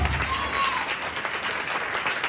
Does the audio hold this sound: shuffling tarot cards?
no